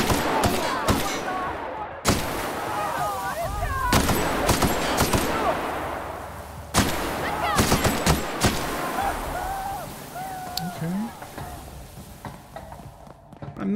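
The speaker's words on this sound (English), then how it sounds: "This gun is so fucking loud." A loud pistol in The Outer Worlds fires repeated sharp shots in uneven bursts across a firefight, with someone talking between and over the blasts.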